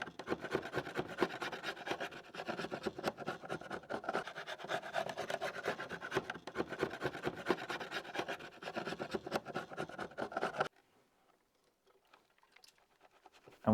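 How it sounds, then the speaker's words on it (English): A flathead screwdriver scrapes old coating off a Volvo V70 headlight lens in rapid, rasping strokes close up for about ten seconds, then stops, leaving near silence. "is with a flathead screwdriver and just scraping it off as much as possible as you can reach"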